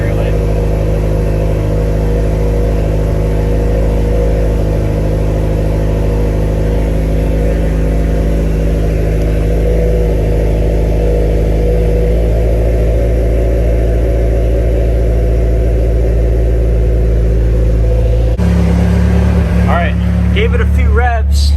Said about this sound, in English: Gave it a few revs